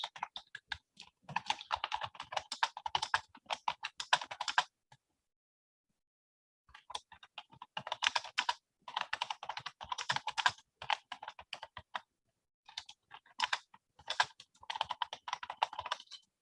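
Typing on a computer keyboard during a chemistry class on cumene synthesis: quick, close bursts of clicking keys that stop for a couple of seconds, then resume in uneven flurries, with no voice.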